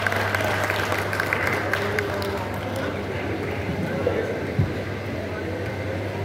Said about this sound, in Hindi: ज़ोरदार तालियों के दरमियान आप कैसर खाली साहब का इस्तकबाल करें।